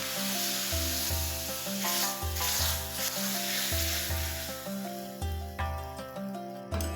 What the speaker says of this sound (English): let's lace this curry with this tadka